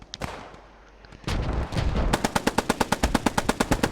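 Machine-gun fire in a World War II–style multiplayer war game match, opening with a few scattered shots and a louder blast, then a steady, rapid burst of evenly spaced rounds that stays close and loud with no talking.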